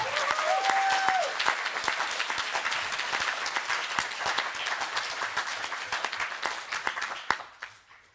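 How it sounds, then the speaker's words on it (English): An audience at a panel discussion applauds a panelist with steady, crowded clapping, strongest at first and thinning out toward the end, with a brief tonal whistle or feedback near the start. "So, please give up a big applause for Betty Lachgar."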